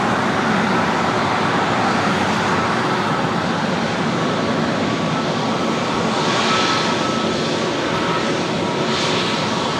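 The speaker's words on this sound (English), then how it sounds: "Another A321neo with Delta. It's flight 1045, taking off to Seattle." A Delta Airbus A321neo jet takes off from LAX, its engines producing a loud, steady broadband roar that holds through the whole stretch with a slight swell toward the end.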